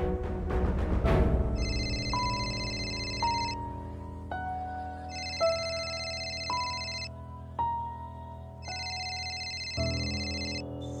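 A phone ringtone plays a repeating electronic melody of bright tones in bursts with short gaps, clear and moderately loud, following a brief louder rustle at the start and with no voices.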